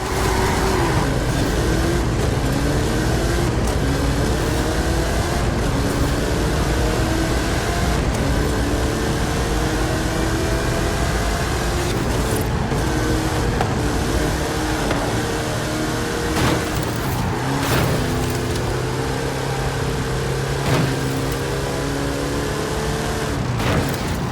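Several cars rev and accelerate through the gears in a Forza Horizon 5 drag race, a continuous loud engine roar with rising and falling tones layered together throughout, no talking.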